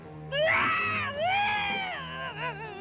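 A cartoon cat lets out a long, loud howl that wavers up and down in pitch, with a brief dip before it carries on.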